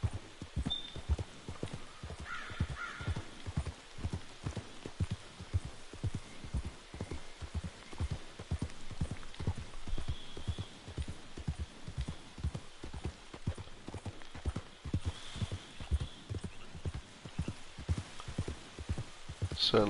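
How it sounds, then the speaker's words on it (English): Horse hooves clip-clop steadily at a walking pace on a ride in the Red Dead Redemption 2 game, in foggy weather, with a faint patter like rain behind the close, even rhythm of footfalls. "Certainly great weather for a horse ride"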